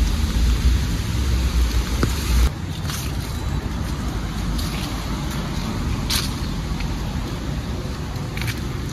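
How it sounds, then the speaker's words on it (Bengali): Steady rain falls on a city street in New York, a dense continuous hiss with a brief louder splash near the start and faint passing traffic mixed in. "সুন্দর একটা বৃষ্টির দিন আজকে"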